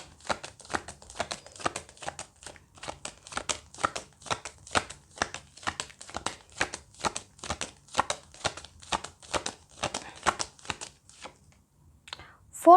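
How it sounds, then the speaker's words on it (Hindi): Tarot cards pulled one after another from a deck, a rapid, steady run of crisp papery slaps and flicks, close and fairly quiet, continuing for several seconds before stopping. "पहले मैं सारे कार्ड्स निकाल लेती हूँ"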